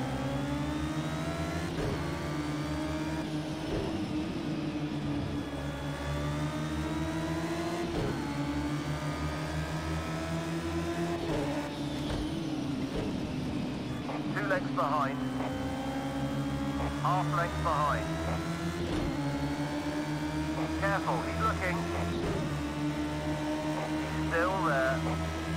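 Two Radical SR3-RS race car engines lapping Brands Hatch in a sprint race, a loud sustained in-car engine drone with rising and falling revs, repeated gear shifts and sharp changes in pitch over about twenty-five seconds.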